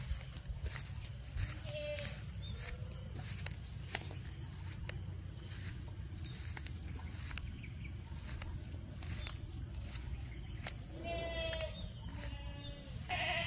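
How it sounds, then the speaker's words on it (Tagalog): Goats on a countryside farm in the Philippines give a few short, wavering bleats at a moderate distance, one early and one near the end, over a constant high chorus of crickets and insects in the quiet morning air. "Baka tayo yung kakainin ng kambing guys."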